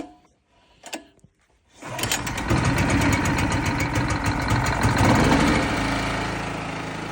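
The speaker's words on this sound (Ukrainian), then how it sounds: "коли ви почули, що двигун запустився" A petrol generator, started with the choke closed: a few short pull-cord rattles in near silence, then the engine catches and settles into a loud, steady, close-up idle.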